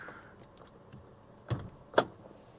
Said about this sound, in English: Pop the hood, pop the trunk.